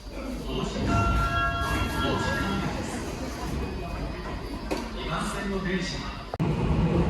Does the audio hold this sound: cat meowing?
no